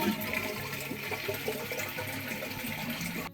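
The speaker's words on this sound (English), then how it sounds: "And then flush your toilet." A household toilet with a running-water fault is flushed, giving a steady rushing, gurgling wash of water that continues at moderate level and then cuts off abruptly at the end.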